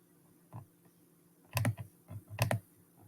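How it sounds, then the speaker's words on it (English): A few bursts of computer keyboard typing, soft single key clicks followed by two quick clusters of keystrokes, close and fairly quiet, with no voices. "I am just typing random words for now."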